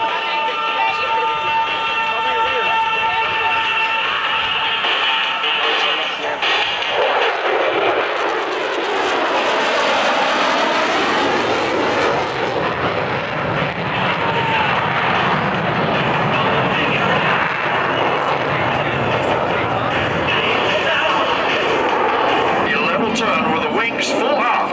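A VF-101 swing-wing jet fighter at a 1991 air show roars loudly and continuously overhead, a broad rushing engine noise that swells and shifts in pitch as it passes, with no gaps throughout.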